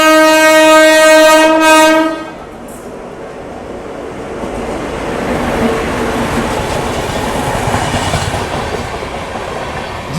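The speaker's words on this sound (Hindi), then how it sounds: "हमारी ट्रेन का निकलने का वक्त हो चुका है" A superfast express train hauled by a WAP7 electric locomotive sounds its horn with a loud sustained blast, then rumbles and clatters over the rails as it pulls out of the station in Pune.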